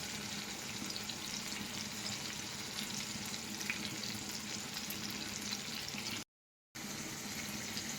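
Tomato egg curry fries in a pan, with a steady, faint sizzle and bubbling hiss running throughout before a short silent gap near the end.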